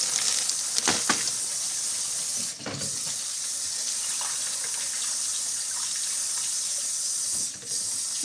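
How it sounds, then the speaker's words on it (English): Brussels sprouts are rinsed under running tap water, a loud, steady hissing stream with brief splashy dips as the flow is interrupted by the vegetables. "I like to at least rinse them with water."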